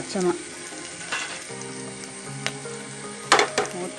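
Garlic and ginger paste fries in a pan for a chickpea masala curry, giving a bright crackling sizzle. A low tonal hum sits underneath, and sharp spattering bursts and stirring clatters break through near the end, with no talking.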